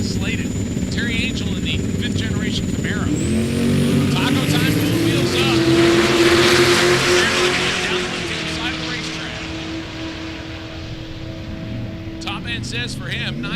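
A Ford Fairmont four-door and a fifth-generation Camaro launch at a drag strip, a loud rising engine roar that swells for several seconds and then fades, with an announcer speaking before and after.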